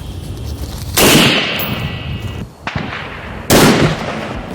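Two loud rifle shots ring out outdoors at an armor plate target during a body armor test. Each sharp blast is followed by a long, rumbling echo, and a steady noisy background sits between them.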